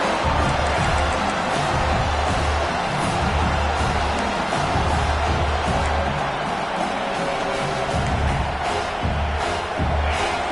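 Football stadium crowd roaring on fourth down to urge the defense on, a dense, sustained wall of cheering and noise with broadcast commentary over it.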